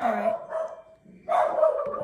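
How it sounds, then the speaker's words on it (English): A pet dog barks nearby in a home while someone plays a baseball video game, two loud bursts of barking separated by a brief pause, with a short spoken word in between. "Excuse my dog."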